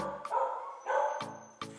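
Older dogs bark excitedly: several short, sharp barks and yips in quick succession, close by and fairly loud.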